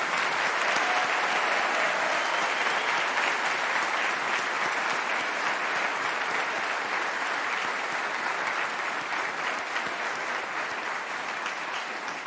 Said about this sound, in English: One more round of applause for all of our graduating students today.